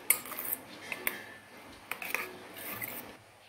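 Egg omelet batter with onion and finely chopped coriander is stirred in a bowl, with a spoon clinking and scraping in short bursts against the dish, fairly close and without talk.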